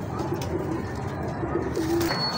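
Pigeons coo softly in a few low, rolling calls over a steady background hum, with healthy golden and teddy pigeons kept by a fancier.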